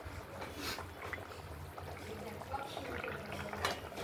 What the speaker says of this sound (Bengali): খুব টকবক করে ফুটছে মাছের ঝোল।